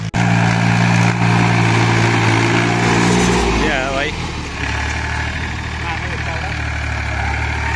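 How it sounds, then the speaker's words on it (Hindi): A mini tractor engine idles close by with a steady low chug, its pitch dropping and settling midway while someone talks over it. "एक ट्रैक्टर और दिखा दे, एक और चल रहा मेरे इधर ही में"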